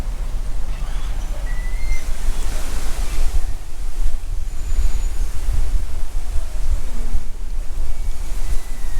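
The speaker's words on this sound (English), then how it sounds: "It's quite windy today as well" Strong wind rushes and buffets continuously at a meadow campsite near Houghton Mill, a loud broadband roar with low gusting rumble throughout.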